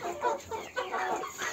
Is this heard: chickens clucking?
yes